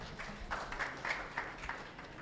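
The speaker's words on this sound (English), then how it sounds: "Clap for him, please." Audience applause at a summit as a professor is welcomed to the stage, a brief, faint patter of scattered clapping.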